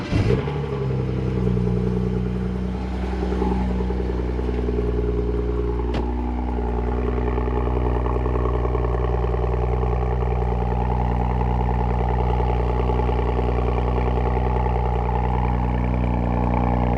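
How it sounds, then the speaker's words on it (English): Cold start of a 2016 BMW engine with exhaust, starting with a sharp crank and flare, then settling into a loud, steady, rumbling idle close by. "Let's go ahead and fire it up."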